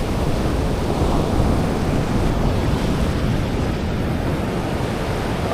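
Sea waves wash in along a rocky shore in a steady, loud, unbroken roar of surf with wind noise on the microphone and no voices.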